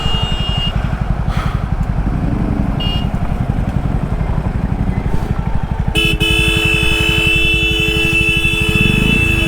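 A Jawa 42 motorcycle engine thrums steadily and loudly through road traffic, with car horns blaring in repeated toots, including a long sustained honk near the end.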